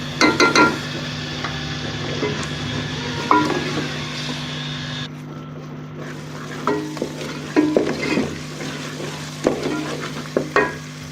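Garlic ginger paste sizzles steadily in hot mustard oil while a spoon scrapes and stirs the pan in irregular bursts, close up.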